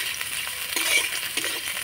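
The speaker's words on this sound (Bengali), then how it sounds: "তো গাজরটা হালকা করে নাড়াচাড়া করে একটু ভেজে নেব।" Carrots being lightly stirred and fried in a pan, with a steady soft sizzle and a few faint scraping stirs; no one talks.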